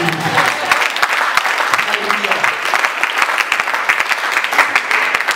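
A church congregation at a Sunday service applauds and cheers steadily, a dense wash of clapping held at an even level throughout with voices mixed in.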